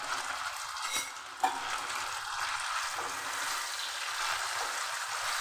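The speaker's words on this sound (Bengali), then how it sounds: "এবার আমি কচু দিয়ে দিচ্ছি তেলের মধ্যে।" Taro pieces fry in hot mustard oil in a wok with a continuous soft sizzle, broken by a couple of brief utensil clicks as they are stirred.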